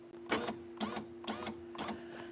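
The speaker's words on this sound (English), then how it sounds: "You may hear a noise inside of here, and that's due to the fact that the regulator is not attached to the window yet" A 2012-2015 Honda Civic front power window regulator motor runs while unattached to the glass, giving a steady mechanical whir with a rhythmic whining pulse repeating about every half second.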